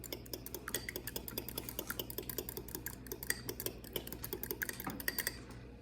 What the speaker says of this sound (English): whisk it up with a fork